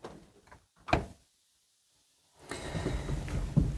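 The driver's door of a 1955 Citroen Traction Avant Legere opens with a sharp metallic latch click, a brief hush, then a louder rustling swing and creak of the door and seat.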